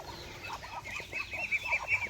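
Chicks and hens on a provincial farm cluck and peep close by, a string of short, soft clucks with high chirps scattered over them, low in volume and unbroken by speech.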